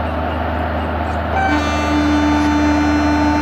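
A Garib Rath Express pulls away in a railway simulation game, a steady low engine rumble with a sustained tonal whine that rises and strengthens midway, loud and close, with no talk.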